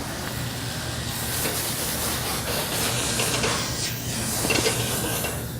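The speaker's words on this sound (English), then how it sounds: "Just add the broccoli itself, and it should sizzle a little bit." Broccoli sizzles in a hot pan with a steady, soft hiss and light crackle, heard alone at moderate volume.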